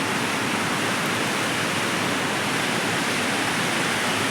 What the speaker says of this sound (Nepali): जहाँ जता नजर घुमाए पनि हरियो छ अनि मसिनो पानी परिरहेको छ है त।